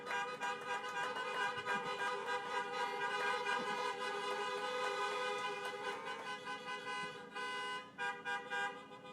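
Car horns honk in a carpool line at a school graduation, a dense layered chorus of sustained toots from many vehicles sounding together at a moderate distance, with the blare thinning into shorter bursts toward the end.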